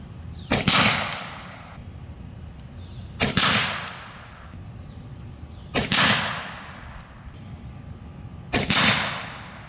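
An Air Force Condor SS .25 air rifle firing slugs lets off four sharp, loud cracks spaced a few seconds apart, each leaving a short decaying tail.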